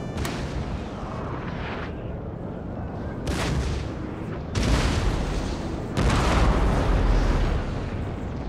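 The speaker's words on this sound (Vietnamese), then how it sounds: "Tuyệt vời là pháo của chúng ta vẫn đang lã được ầm ầm." Artillery booms in Napoleon: Total War, a field battle with heavy cannon fire rolling out in loud, sustained bursts, with fresh volleys crashing in around every few seconds.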